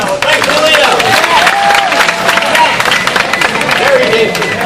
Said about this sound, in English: A round of applause for Leo